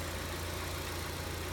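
A 2016 Ford Transit Connect's engine idles steadily at close range with the hood open, a continuous even rumble with no other sounds.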